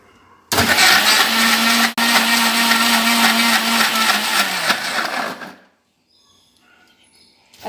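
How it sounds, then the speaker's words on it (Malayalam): A kitchen mixer grinder blending jackfruit seeds roars loudly and steadily for about five seconds with a constant motor whine, then spins down and falls quiet. "നമുക്ക് ഈ ചക്കക്കുരു മിക്സിയിലിട്ട് അടിച്ച് ആദ്യം നമുക്ക് ഈ ഒഴിച്ചു വെച്ചിരിക്കുന്ന ചക്കക്കുരു തന്നെ മിക്സിയിലിട്ടൊന്ന് അടിച്ചെടുക്കാമേ."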